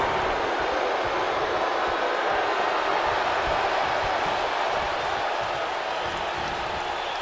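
Steady dense crowd roar from a wrestling arena in WWE 2K19, a constant loud wash of noise with no breaks, sustained throughout.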